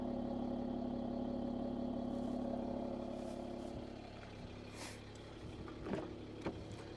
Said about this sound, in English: Listen to that AMG exhaust.